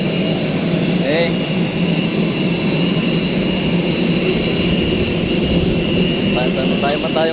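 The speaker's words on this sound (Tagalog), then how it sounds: "Akyat na tayo sa aeroplano." Airliner jet engines during boarding for a flight to Manila make a loud, constant whine and roar close by, with people talking underneath.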